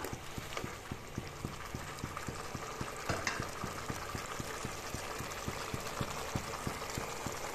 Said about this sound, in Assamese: এইখিনি দেখিছেনে কি ধুনীয়া কৌতলিব ধৰিছে আলুখিনি